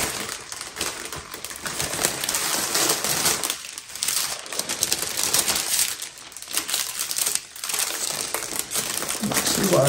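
Cellophane crinkles and rustles in bursts as it is draped over resin up close, with brief quieter pauses between the crackling handling sounds.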